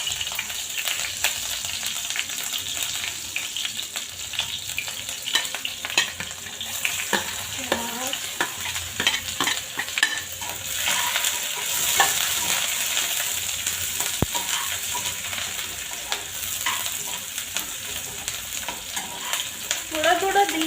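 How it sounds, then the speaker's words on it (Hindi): Green chilies frying in hot oil, a dense steady crackling sizzle that runs throughout at close range, with intermittent stirring scrapes and small clinks layered over it. "जैसा कि मेरा तेल गरम हो गया है, मैं इसमें डालती हूँ थोड़ी सी हरी मिर्ची"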